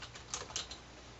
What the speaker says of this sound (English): Type in a keyword